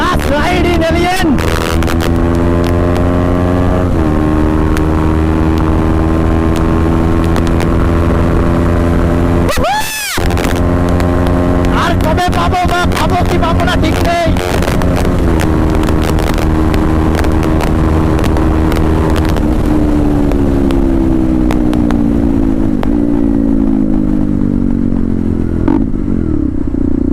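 A motorcycle roars loudly and continuously at close range on the move, its engine pitch climbing and dropping through gear changes and downshifts, with wind rush and a brief dip in the middle.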